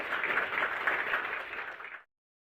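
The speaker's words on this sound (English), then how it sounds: "let's give Anders a round of applause." An audience applauds after a talk, a dense steady round of clapping that holds for about two seconds, then stops abruptly.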